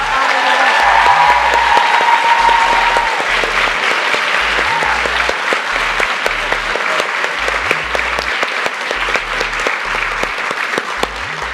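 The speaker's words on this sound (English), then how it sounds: "So can we get another round of applause for our honorees?" Audience applauding honorees at a White House event, a steady sustained round of clapping from a crowd that gradually thins toward the end.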